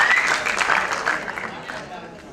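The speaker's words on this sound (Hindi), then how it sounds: "तालियां जोरदार होनी चाहिए, जैसे पर्दे पर सुनील शेट्टी को देखकर होती है" Audience applause at an award ceremony: a short, dense burst of clapping from a crowd that fades out over about two seconds, with a voice mixed in.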